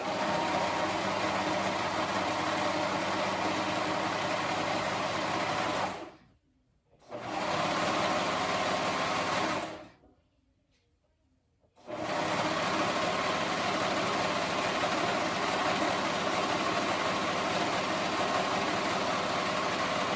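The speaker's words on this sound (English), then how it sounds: "I'm going to go ahead and hem. I'm using the cover stitch to hem today." A cover stitch sewing machine hemming a child's tank top whirs in a fast, steady mechanical run, pauses twice for a few seconds, then resumes stitching at a constant pace.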